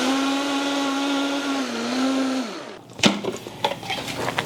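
A blender whirs steadily at high speed through a cashew and strawberry ice cream mixture, then winds down and stops, followed by scraping and clinking sounds.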